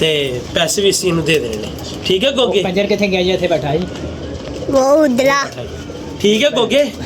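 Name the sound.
pigeons cooing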